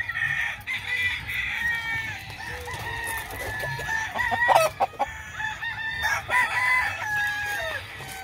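Several fighting cocks crow repeatedly at a breeding farm, overlapping calls from near and farther pens, with clucks and chatter from other birds filling the gaps.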